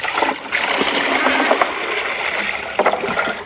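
Fresh water splashes and trickles out for farm animals in freezing winter weather near a pond build site, a steady pouring wash with a few brief louder splashes, close by.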